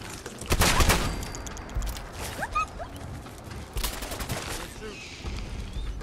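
Double shotgun blasts in Fallout 4 crack out in a couple of loud bursts, with mechanical clicks and creaks between shots and a voice talking over the scene.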